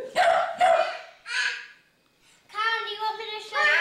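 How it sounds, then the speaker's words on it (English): A small dog barks several times nearby, sharp and high-pitched, with a short pause before a quick run of yips. "Is he barking?"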